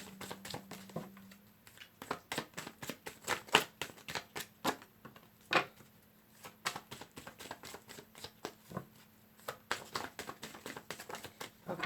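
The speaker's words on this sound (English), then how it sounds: "Okay, last shuffle." Tarot cards riffled and shuffled by hand in a run of dense, crisp paper flutters and taps, close and fairly quiet, with short pauses between bursts.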